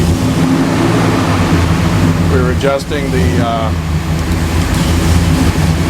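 A Chevy big block 496 stroker with a single plane intake, flooded with gas, runs on a dyno as a loud, steady roar, while a voice briefly speaks over it midway.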